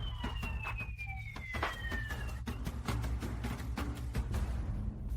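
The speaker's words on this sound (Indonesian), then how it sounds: "Dari jauh, kedengaran sirine polisi" A police siren ringtone sounds from a phone, its wailing tone sweeping downward over a steady low rumble of background sound, fairly loud and continuous.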